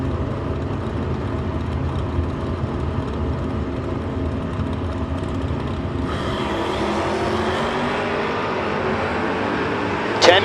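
Drag racing run at a Door Wars event, Aspen wagon on the strip: a continuous loud engine roar and rumble that builds and brightens toward the end, heard from the track side with crowd ambience.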